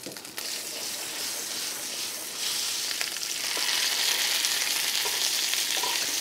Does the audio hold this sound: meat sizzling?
yes